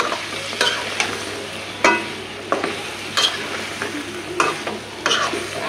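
Flat beans and potatoes being sautéed in a pan, a steady sizzle broken by repeated scraping stirs roughly every second, close and fairly loud with no talk.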